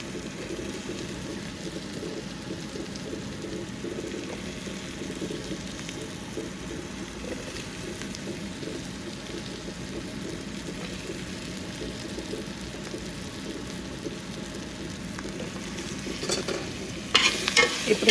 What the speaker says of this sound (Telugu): అరటికాయ ముక్కలను వేసేసుకుందాం అన్నీ.